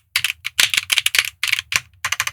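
Fingers type quickly on a OnePlus x Keychron Keyboard 81 Pro mechanical keyboard, producing close, crisp clacks in uneven bursts with short pauses and no speech.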